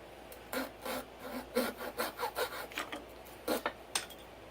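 Hand saw cutting through wood during an LED lantern build, a string of short rasping strokes that start gently and then run in a quick uneven rhythm, close and fairly quiet with no talk.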